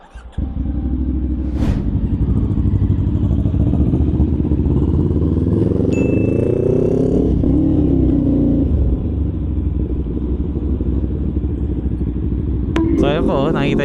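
An NK400 motorcycle engine rumbles loudly and steadily close by, its pitch rising and falling in a rev around the middle, with people talking over it throughout.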